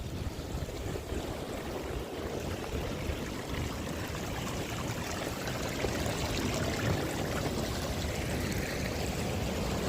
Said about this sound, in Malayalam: ഇവിടെ ഒരു അരുവി പോലെ വെള്ളം വരുന്നത് നിങ്ങൾക്ക് കാണാൻ സാധിക്കും.